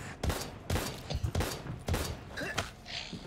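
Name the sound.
pistol gunfire in video game Daymare: 1998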